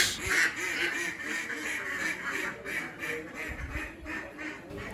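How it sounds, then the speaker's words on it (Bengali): Ducks kept by a rural family quack repeatedly in an uneven chorus outdoors, faint and at some distance. "এই দেখো কত হাঁস"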